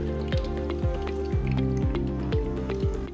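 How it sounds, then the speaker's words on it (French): Water trickles and drips off a tilted tray of soaked sprouting seeds, an irregular run of close, wet plinks and splashes over a steady gurgle. "pour pouvoir égoutter, on fait juste pencher le plateau"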